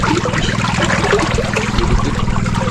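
Water flowing in a fishpond during harvest rushes and gurgles steadily and close by, a loud continuous churning stream with no voices over it.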